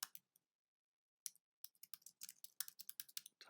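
Quiet typing on a computer keyboard, close and crisp: a few keystrokes, a pause of about a second, then a steady run of quick clicks.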